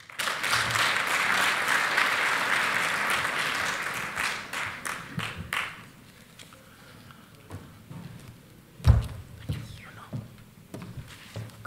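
An audience claps to welcome a speaker at the 2019 CCMA Indaba plenary. The applause is loud and dense at first, then fades after about five seconds into scattered claps and quiet room noise.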